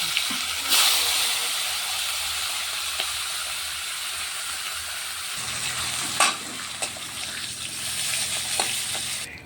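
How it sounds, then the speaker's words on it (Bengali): Fish heads fry in hot oil in a kadai, giving a steady, close, continuous sizzle with occasional sharp stirring scrapes and spatters and no voices. "তেল গরম হয়ে গেছে, এখন আমি মাছের মাথাগুলো ভেজে নিচ্ছি।"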